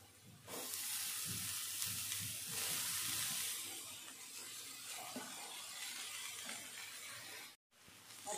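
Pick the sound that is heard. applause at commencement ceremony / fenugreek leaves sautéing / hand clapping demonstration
fenugreek leaves sautéing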